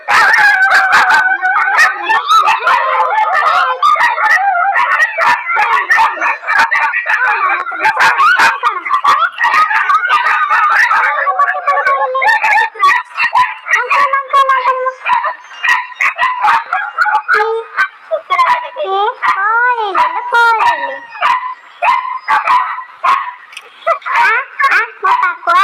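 Several dogs bark and howl loudly and without pause, a dense, close chorus of yips, barks and drawn-out wavering howls that thins into separate howls and whines toward the end.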